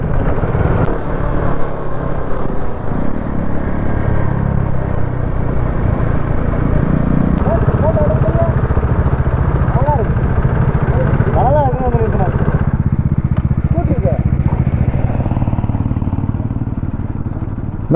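A Bajaj Dominar 400 motorcycle rumbles loudly along a coastal road, the engine droning steadily with rising rev swells, wind buffeting throughout, while a rider talks over the noise.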